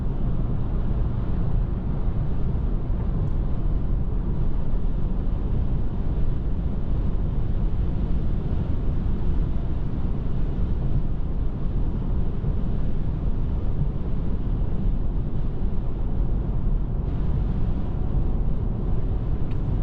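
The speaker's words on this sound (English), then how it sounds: "you can hear that wind" Steady, heavy wind roar buffeting from inside a moving Tesla driving through Wichita, Kansas, before a snowstorm, constant low rumble with no talking throughout.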